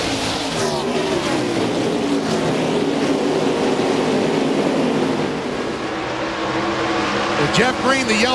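NASCAR stock cars roar together at Dover in the 2001 MBNA.com 200, a dense sustained engine drone with pass-by swells, heard beneath a commentator's voice over a cheering crowd.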